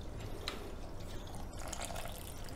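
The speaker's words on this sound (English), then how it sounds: "So we want 350 grams of water." About 350 grams of water pours into sourdough dough in a home kitchen, a quiet continuous trickle and splash with faint drips, heard up close without any talking.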